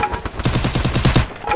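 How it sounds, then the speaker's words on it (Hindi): Gunfire in a video game during a sniper engagement, heard as a loud, rapid, evenly spaced string of shots close up. "अबे कोई स्नाइपर मार रहा है भाई"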